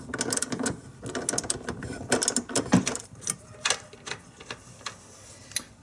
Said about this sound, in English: It will require us to use a 14mm socket.